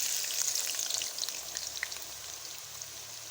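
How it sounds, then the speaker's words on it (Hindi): Sliced onions fry steadily in a pan with a dense, continuous sizzle and crackle, close and fairly loud throughout with no talking. "प्याज को हम लोग फ्राई कर लेंगे अच्छे तरीके से। ये प्याज फ्राई हो रहे हैं।"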